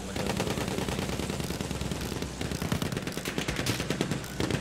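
Burton rifle gunfire in the video game Battlefield 1, rapid repeated shots layered with other battlefield fire in a loud, continuous barrage, with faint voices mixed in.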